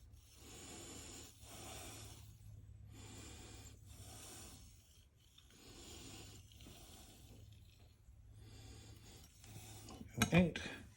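Steel knife blade rubbed in repeated back-and-forth strokes across a King S-1 6000 super finish whetstone, giving a soft, close scraping rasp in steady bursts, with a sharper clink near the end.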